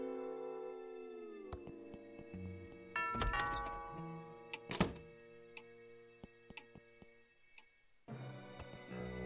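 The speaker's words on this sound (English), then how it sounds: "That sounds like the doorbell." A doorbell chimes inside a house in the Thimbleweed Park adventure game, several sustained tonal ding-dong notes ringing clearly over faint background music, with sharp thunks and clicks between them.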